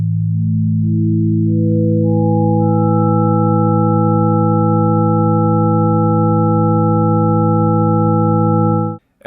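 Planetary orbital frequencies are transposed into steady pure sine tones that enter one by one from low to high, stacking into a sustained consonant chord that stops abruptly at the end.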